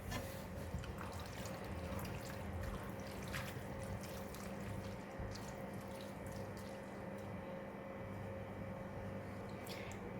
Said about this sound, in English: I'm gonna add in about 200 ml of water